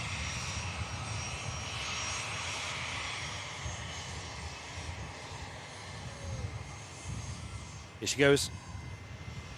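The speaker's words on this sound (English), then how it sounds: "Virgin Airbus A350." A Virgin Airbus A350 airliner at Manchester Airport produces a distant, low engine rumble that lingers under the scene, while people talk nearby and a brief sharp burst sounds near the end.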